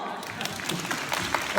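Scattered audience applause at an entrepreneurs' event in Japan, a steady patter of claps with some voices mixed in, moderately loud and continuous for a short burst.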